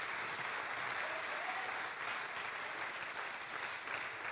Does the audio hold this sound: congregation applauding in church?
yes